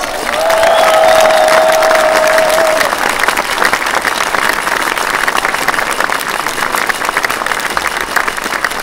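Loud, sustained applause and cheering from a crowd gathered below a town hall balcony in Schwäbisch Gmünd greeting double world champion skier Carina Vogt, with a brief whistle early and dense clapping continuing throughout.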